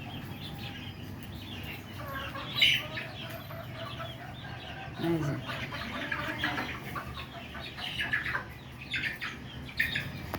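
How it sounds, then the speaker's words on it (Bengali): Layer hens in new wire cages on a small poultry farm, along with a local hen and rooster, cluck and squawk in irregular bursts nearby, while someone talks over them. "এদিকে দেশি একটা মুরগি আর একটা মোরগ দিছি"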